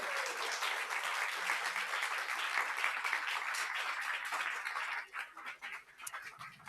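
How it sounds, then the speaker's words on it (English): Sustained applause from an audience at the Dev.Play 2022 awards gala, a dense crowd of clapping hands held steady and loud for several seconds before thinning out near the end. "Please give him a round of applause."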